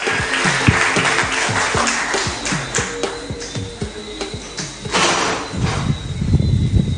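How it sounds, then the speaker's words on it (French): An audience at a Guadeloupe sports awards ceremony applauds steadily, with rhythmic music with a beat playing loudly underneath, and the clapping swells again near the end. "Encore une fois, un applaudissement pour Miss Laurie Martin."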